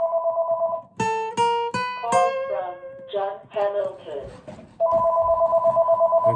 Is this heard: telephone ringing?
yes